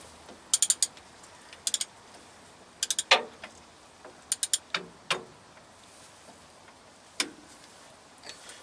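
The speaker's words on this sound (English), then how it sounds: "I got my smaller socket on for this one. I got my wrench set at 350." A torque wrench set to 350 with a smaller socket turns a nut on a three-axle semi trailer during an S-cam replacement. Clusters of sharp ratcheting clicks alternate with metallic clanks and short pauses, close by, with no speech.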